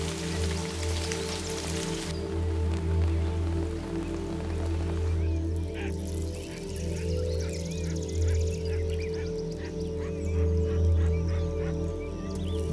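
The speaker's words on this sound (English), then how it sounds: "But as summer arrives, so too do the first rains." Early summer rain in African savanna dung beetle country, a steady hiss of drops falling on leaves and ground, with faint bird calls joining partway through, continuous and moderately loud.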